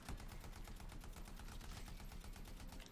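Rapid automatic gunfire from a sci-fi shooter game, Anthem, rattling in a steady, dense stream of shots with no pauses, loud and close throughout.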